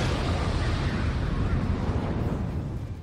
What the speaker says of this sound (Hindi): रूस के इस हमले के बाद वहां तेज धमाका हुआ